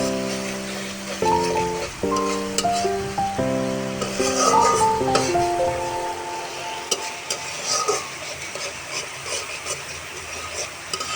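A spice paste is stirred and fried in a pan for a green papaya dish, giving a constant sizzle with scraping spoon strokes under a tonal hum and music in the first half.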